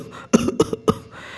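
A man coughs in a fit, three harsh rough bursts close together, loud and near, with no talk around them.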